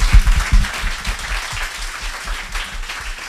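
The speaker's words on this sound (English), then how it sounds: "one fellow clap for John Maeda, who's graced us with his presence." Audience applause for panel moderator John Maeda at an AIGA-DC lunchtime design panel: a steady, dense wash of clapping from a room of listeners, strongest at the start and then easing slightly, with no talk over it.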